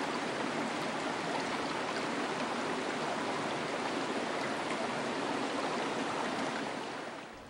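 River water flows steadily with a dense, even rushing hiss, close and continuous throughout, slowly easing near the end, with no voices.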